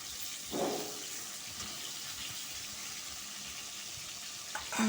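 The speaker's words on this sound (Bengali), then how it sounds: "দেখো, এটাকে আমি ভালো করে ভাজা করে নেব।" Fish pieces and four fish heads frying in a pan over a medium flame: a steady, hissing sizzle with a brief bubbling flare near the start, with no talk over it.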